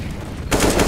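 Rapid gunfire in a video game bursts in loudly about halfway through, a dense burst of shots after a quieter stretch.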